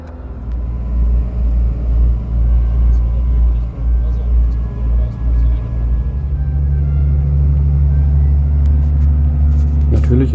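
A car drives through northern Tunisia with a suspected gearbox fault, its gearbox shifting normally. The engine keeps up a loud, steady, close rumble, and the tone changes partway through as the gear shifts.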